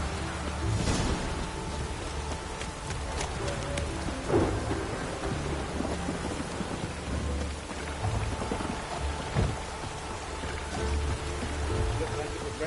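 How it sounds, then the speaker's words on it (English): Steady rain patters on surfaces in the video game The Witcher while thunder rumbles low in the background, with brief talk over the storm. "Looked like it would rain, and here it is."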